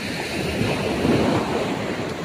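Waves wash steadily against the shore, a continuous rushing surf with some wind noise, no voices.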